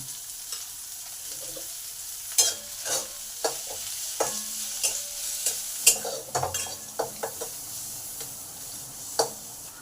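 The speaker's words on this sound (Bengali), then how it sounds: "পেঁয়াজগুলোকে একটু ভালো করে ভাজবো" Sliced onions with salt stir-fry in a pan, a soft continuous sizzle broken by repeated scraping and clacking strokes of the spatula at an uneven pace, close and clear without talk.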